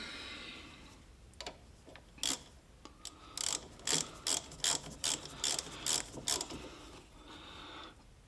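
A small ratchet tightens a 10mm bolt holding the rear half shaft to the bearing on a Fiat Panda 4x4, giving a run of about a dozen quick, close, crisp clicks in short bursts over a quiet background.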